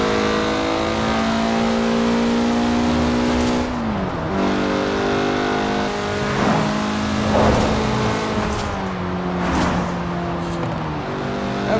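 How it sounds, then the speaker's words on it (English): A Mazda engine in Forza Horizon 4 roars with a throaty exhaust note, climbing through revs and dropping briefly between gear changes on small roads, loud and sustained with no talking. "I could listen to that exhaust note without any talking in the whole video."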